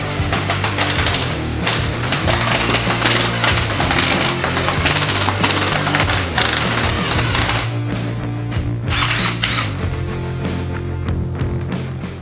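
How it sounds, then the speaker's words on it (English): A power driver drives screws into a Porsche 911 Turbo body part, loud, dense rattling buzz running almost continuously, then easing slightly toward the end. "Now I just have to throw in like 100 screws that this thing comes with."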